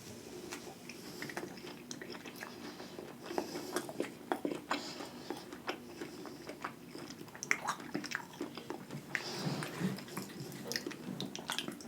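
Someone eats McDonald's chicken nuggets, poutine and fries close to the microphone, giving irregular crunchy bites and moist chewing clicks over about twelve seconds with no talking.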